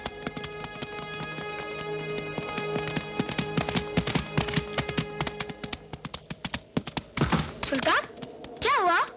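Horse hooves clip-clop in a steady run, loud and close, beneath a sustained musical score. Near the end the hoofbeats give way to sweeping, whooshing sounds.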